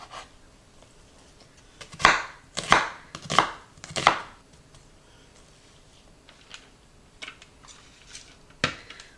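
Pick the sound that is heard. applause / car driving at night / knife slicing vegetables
knife slicing vegetables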